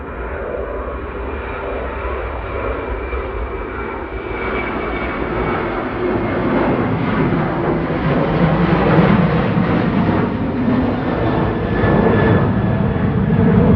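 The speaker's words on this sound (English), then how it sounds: "Ryanair 8308 to Wrocław going now, SP RST 737-800" A Ryanair Boeing 737-800 jet departs Manchester Airport. Its engines make a loud, continuous roar that swells and grows brighter over the span, with no talking.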